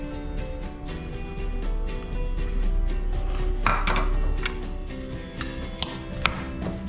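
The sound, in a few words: mixing vegetables for fish shawarma filling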